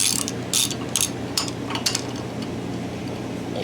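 Ratchet wrench working 11 mm M7 head bolts loose on a Garelli moped engine, with several short, close bursts of rapid clicking separated by pauses.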